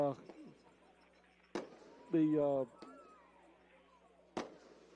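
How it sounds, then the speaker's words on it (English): Fireworks go off after a high school varsity football game, with sharp isolated bangs spaced a few seconds apart. An announcer talks over them and crowd noise and a horn blare sit in the background. "Fireworks going off."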